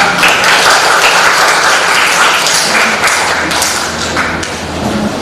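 A classroom of students applauds a group as it steps forward to present, a dense wash of clapping with some thumps mixed in that holds steady for about five seconds before easing slightly.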